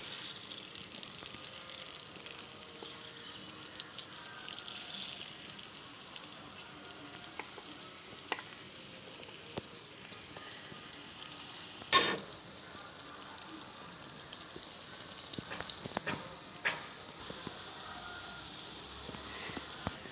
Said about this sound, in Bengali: আমার তেলটা গরম হয়ে গেছে এখন কড়াই তেল বসে দিয়েছি এবার এগুলো বড়াগুলো দিয়ে দিচ্ছি